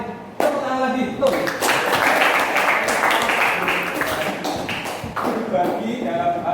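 Applause in a classroom during a teaching session, sustained dense clapping from a group of students lasting several seconds, fairly close and loud, with a voice speaking over it.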